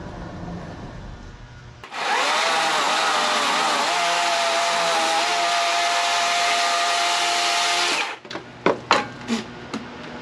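A saw cuts through a massive oak log with a loud, steady motor roar for about six seconds, its pitch dipping slightly under load. It then cuts off abruptly, followed by a few sharp knocks.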